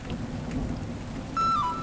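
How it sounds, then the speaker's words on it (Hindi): Heavy rain pours steadily with deep thunder rumbling underneath throughout, and a brief high whistling tone cuts in near the end. "बाहर मूसलाधार बारिश शुरू हो जाती है।"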